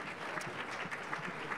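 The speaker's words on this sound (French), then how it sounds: "On peut applaudir Fanny Pigeot qui nous a rejoint." Audience applause in a French talk-show studio, a short burst of steady clapping heard up close and alone for under two seconds.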